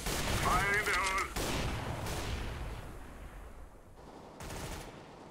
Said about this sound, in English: Or it's a decoy grenade also.